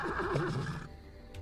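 A horse in the Lego Worlds video game lets out a loud, close whinny with a wavering pitch, lasting under a second, then trailing off into quiet.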